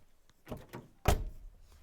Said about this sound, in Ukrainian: Дверки закриваються, до речі, дуже гарно.